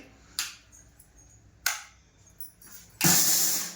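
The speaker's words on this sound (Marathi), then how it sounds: "किती मिक्सरचे एक दोन तीन तर खटके असं मी असे करते" A kitchen mixer grinder runs in short pulses: three brief whirring bursts separated by gaps, the last one longer and louder, close by with no talking.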